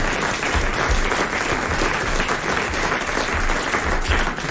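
A studio audience applauding on a French radio-TV panel show, dense steady clapping that fills the whole stretch at a close, even loudness with no voices over it.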